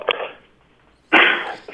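A single loud, abrupt sneeze bursts out close by, following a brief softer vocal sound, with speech-like sounds around it.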